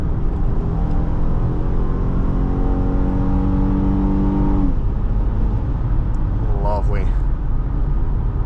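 A 2015 Honda Pilot LX 4WD SUV engine revs up hard with rising, stepping tones as it accelerates from 0 to 60 and shifts gears, loud and close, with a voice heard briefly near the end.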